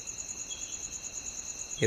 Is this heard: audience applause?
no